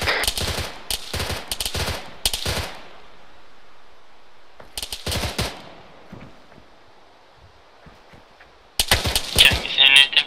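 Automatic gunfire in the military video game ARMA 3, heard as loud, rapid bursts of shots separated by quiet gaps, with a heavy barrage returning at the end.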